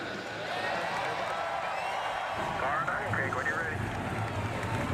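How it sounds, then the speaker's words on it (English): Engines of the 42 race cars in a Daytona 500 stock car race fire up at Daytona, a sustained loud roar building steadily with crowd and track noise underneath. "Engines are fired, pace cars rolling off, and so will these 42 competitors."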